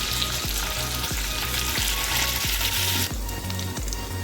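Curry leaves frying with ginger garlic paste in a pan, giving a loud, continuous sizzle close up with a steady rhythmic stirring scrape about twice a second.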